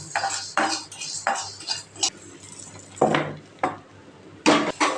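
Metal spoon scraping and clattering in a pan as cinnamon, fennel and cardamom are dry-sautéed without oil, a series of close, irregular scrapes and clinks with brief pauses between them and no speech.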